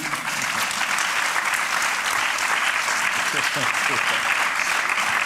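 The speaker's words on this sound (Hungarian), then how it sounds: "meg lehet tapsolni" A theatre audience applauds in a dense, steady wash of clapping that continues throughout, loud and close, with no break.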